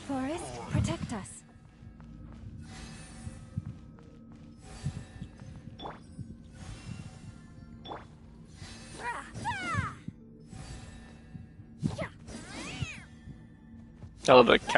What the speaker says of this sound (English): I love the cat noises she makes.